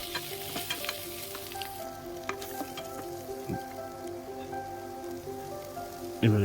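Boiled potato pieces stirred in a pan with cumin frying in oil give a steady close sizzle with soft crackling, and a louder scrape of the spatula near the end, with no talking.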